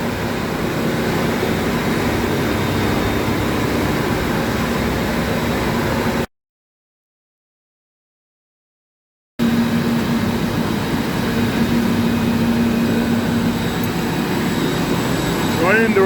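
An electric pump driven by a newly replaced squirrel cage motor runs with a steady, loud mechanical drone, cuts out for a few seconds, then starts up again and keeps running.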